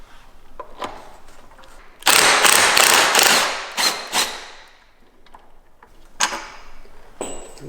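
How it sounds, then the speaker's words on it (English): A ratchet backs out bolts on an RV awning with sharp mechanical clicking, including a loud, dense two-second run followed by a few separate clicks and taps, close by. "Okay, so now I'm going to remove these two bolts."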